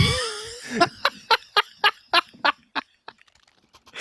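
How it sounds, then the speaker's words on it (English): Chickens on the Inferno map in CS:GO cluck in a rapid series of about ten sharp, evenly spaced squawks that fade toward the end, heard alone and close. "Take their frustrations out on the chickens of Inferno, at least."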